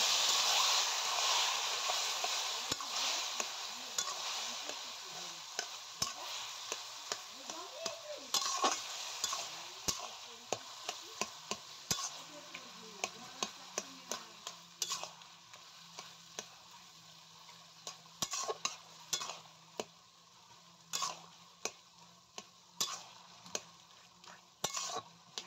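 Boiled taro being stirred into fried ingredients in a pan: a soft sizzle fades over time while repeated sharp spatula clicks and scrapes against the pan grow more frequent and prominent; no one speaks.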